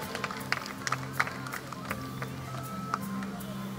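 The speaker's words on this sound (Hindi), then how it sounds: "जोरदार तालियां आदरणीय प्रकाश जैन जी के लिए" Scattered claps from an audience at a Hindi kavi sammelan poetry gathering, honouring Prakash Jain. The clapping is light and uneven, with a low hum of the crowd and hall underneath.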